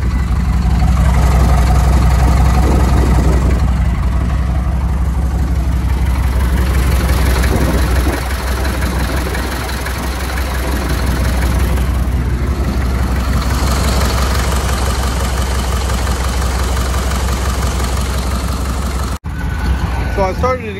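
Diesel truck engine with a faulty fuel injection pump idling roughly after a cold start, a steady loping low rumble close to the microphone throughout, with a brief dropout near the end.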